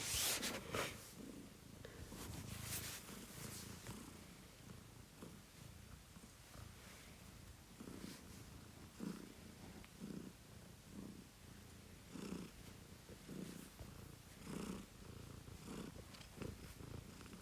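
A house cat purrs close by in a soft, steady rhythmic rumble, each breath cycle pulsing every second or so, with a rustle near the start and no speech.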